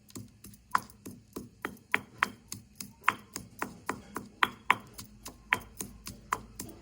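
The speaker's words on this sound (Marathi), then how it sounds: "लसण अद्रक कुटून घ्यायचं" Garlic and ginger pounded coarsely for a village-style buttermilk kadhi, a steady run of sharp, close thuds repeating about three times a second, moderately quiet with no voices.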